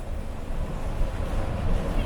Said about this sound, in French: Les essuie-glaces tournent du feu de Dieu, il y a un vent de fou.